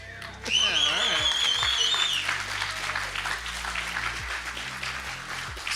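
A live esports audience at Summoners Fest, a Marvel Contest of Champions tournament, applauds and cheers in a sustained wash of clapping, with a host's voice talking over it.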